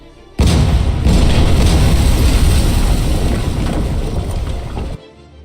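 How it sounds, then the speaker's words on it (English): An artillery bombardment in the strategy game Kaiserpunk: a loud, continuous roar of booming guns and blasts that starts abruptly, rolls on for several seconds and then cuts off. "let's start the artillery"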